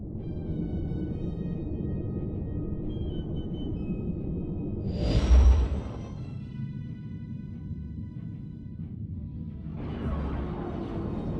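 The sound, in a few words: starship exiting hyperspace in Star Wars: The Old Republic video game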